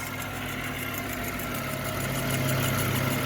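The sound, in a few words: Cinebox film jukebox rewind motor running fast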